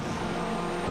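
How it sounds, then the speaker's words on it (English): A WRC rally car at the 2007 Rally Portugal slides through a tight tarmac stage, its engine roaring steadily with tire squeal, loud and close for a brief moment. "Plenty of sliding around on this tight tarmac stage."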